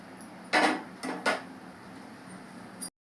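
Drumstick pieces are dropped into sambar in a pot on the stove, making a few sharp clunks and clatters of vegetable pieces against metal over a low kitchen background, with no talking.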